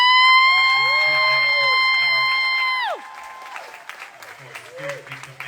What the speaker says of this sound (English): would you join me in an overwhelming applause for Mr.